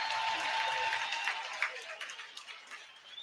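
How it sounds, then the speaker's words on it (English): Spectators at a minor-league ice hockey game between the Utah Grizzlies and Idaho Steelheads give a fan a round of applause, a steady wash of distant clapping that thins out toward the end, with a broadcaster speaking over it. "As the fan gets a round of applause"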